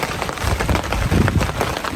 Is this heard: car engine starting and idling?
no